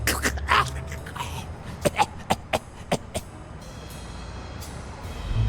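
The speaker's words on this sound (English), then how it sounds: "You've got one nasty cough." A character in the Blacksad: Under the Skin video game coughs, opening with a harsh throaty burst and then a run of short, sharp hacking coughs at a moderate distance, over a quiet room-tone background.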